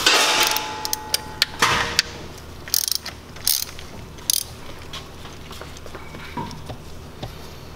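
Ratchet wrench with a 13 mm socket loosening a BMW oil filter cap, rapid clicking pawl bursts that start loud and thin into sparse, fainter ticks.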